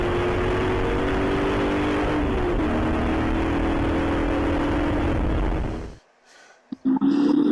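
Spec Corvette race cars at the race start at Sonoma Raceway accelerate hard with a loud, dense engine roar that holds for several seconds, then drops away abruptly before a few brief revs return.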